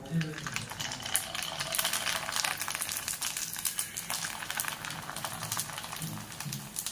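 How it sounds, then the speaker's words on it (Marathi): Chik kurdai, crisp rice-flour fritters, hiss and sizzle steadily as they fry in hot oil, a continuous bubbling crackle close by, with a voice speaking faintly beneath it. "आता मी तळून दाखवते तुम्हाला चला तर आपण पहिल्यांदा चिकाच्या कुरोळा टाकू"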